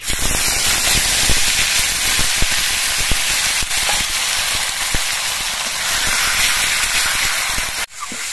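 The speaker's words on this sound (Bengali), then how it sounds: "এর মধ্যে দিয়ে দিচ্ছি পেঁয়াজের পেস্ট" Onion paste goes into hot oil with bay leaf, whole garam masala and cumin and sizzles loudly at close range as a dense, hissing spatter with crackling pops, then cuts off abruptly near the end.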